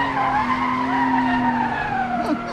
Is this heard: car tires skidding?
yes